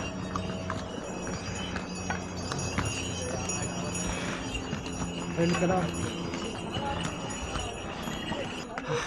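Horse and mule hooves clopping along the Sonprayag to Kedarnath mountain trek trail amid a busy crowd, with voices talking throughout and steady background bustle.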